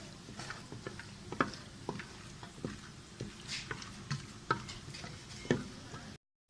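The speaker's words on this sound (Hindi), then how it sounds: "अब हम इसमें ये अपने ड्राई मसाले डालेंगे। हल्का सा इसको फ्राई करेंगे।" Dry spices frying in half a cup of hot oil for a beef salan, giving soft crackling and light ticking sizzles with occasional sharper pops, fairly quiet and close.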